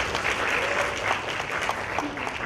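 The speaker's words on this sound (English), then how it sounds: "Can you please give her a round of applause?" Applause from a summit meeting audience, a steady wash of clapping filling the room at moderate volume with faint voices mixed in.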